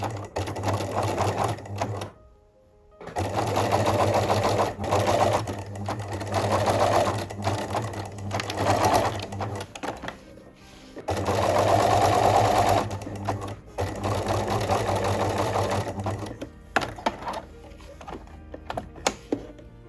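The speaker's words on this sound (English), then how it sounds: "We're gonna sew the bra form with zigzag stitch." A sewing machine runs zigzag stitches on a miniature bra form in long steady bursts, pausing briefly between runs, loud and close with a rapid mechanical chatter.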